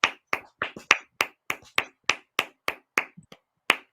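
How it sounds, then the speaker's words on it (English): Quick sharp hand claps or snaps from a small at-home group, roughly a dozen distinct, evenly spaced bursts over a few seconds, close and crisp, with no talking over them. "give them a round of applause."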